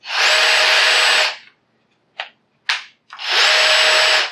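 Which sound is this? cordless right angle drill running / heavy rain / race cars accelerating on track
cordless right angle drill running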